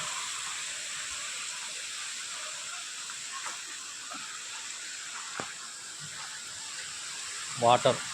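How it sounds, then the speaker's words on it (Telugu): Water flows steadily at Gannerla in Rachakonda, a constant hissing rush heard at a distance with a few faint knocks and a brief voice near the end. "వాటర్ శబ్దం"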